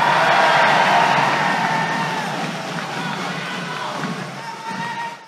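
A political rally crowd in Johor claps and cheers, a dense, loud wash of applause and shouts that fades slightly and then keeps going, with no clear speech over it.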